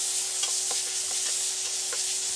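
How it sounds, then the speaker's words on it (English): Diced onions, celery and carrots fry in sunflower oil over medium-high heat, a dense, even sizzle close up with a few soft stirring knocks and no voices. "I'm going to add 3 tablespoons of sunflower oil, followed by the mirepoix."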